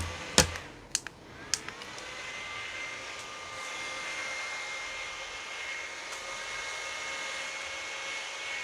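A hair dryer blows on freshly applied makeup with a steady, close, breathy whoosh. A few sharp clicks come at the start, then the airflow runs evenly with no voices.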